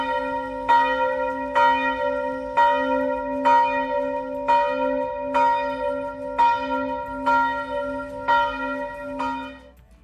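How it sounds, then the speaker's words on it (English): Church bells ring steadily in Montenegro, about one strike per second, each toll ringing out with rich overtones and long sustain, heard clearly without voices. "waking up, hearing the church bells"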